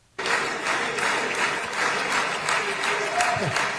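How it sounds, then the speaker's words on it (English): A crowd applauding at a political speech, steady dense clapping that starts abruptly and stays loud and close throughout. "just these people applauding a genocide"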